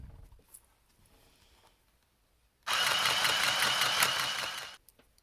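A handheld sewing machine runs through a hem secured with double-sided iron-on tape, giving a steady, loud mechanical whir for about two seconds after near silence, with a few faint clicks before and after.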